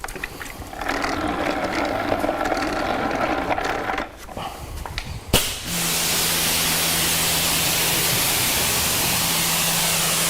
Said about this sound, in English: I'm going to start rinsing this car.